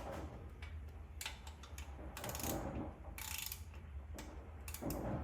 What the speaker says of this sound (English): I'm gonna make sure that they're good and evenly tightened down